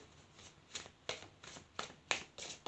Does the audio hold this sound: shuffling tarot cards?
yes